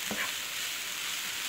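Cauliflower pizza crust mixture stirred in a pan to cook off its moisture, giving a steady soft sizzle and faint scraping throughout, with one brief knock near the start and no voices.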